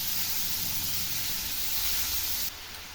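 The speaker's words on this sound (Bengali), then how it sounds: "এবার দিয়ে দিচ্ছি কুচনো বাঁধাকপি।" Chopped cabbage frying with spices in a pan, a steady loud hiss and sizzle throughout that drops slightly near the end, with no talking.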